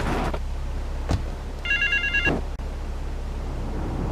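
A telephone rings in the video game Grand Theft Auto III, a public phone in a park. One clear electronic ring sounds over steady ambient game background noise, with a few soft thumps around it.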